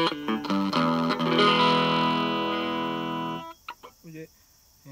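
An electric guitar plugged straight into a 10-watt Fender transistor amplifier with no pedal. A few plucked notes lead into a loud sustained strummed chord that rings out and decays, followed by quieter short picked notes.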